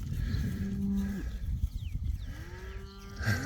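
Cows and bulls in a farm enclosure low out in several drawn-out moos, close and loud, with a lowing call repeating after a short pause amid outdoor background noise.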